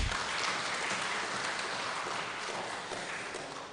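An audience at an Africa People's Commission of Inquiry session on IMF and World Bank policies claps in a dense, steady wash that thins slightly toward the end, heard from a distance.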